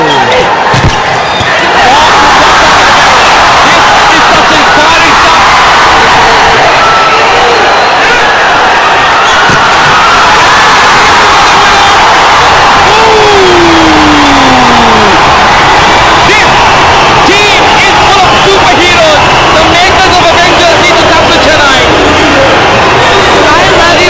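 A packed stadium crowd roars and cheers continuously at a Chennai Spartans volleyball match in Chennai, a loud dense wall of noise with a commentator talking over it.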